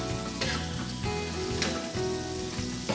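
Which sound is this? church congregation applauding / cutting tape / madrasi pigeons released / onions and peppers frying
onions and peppers frying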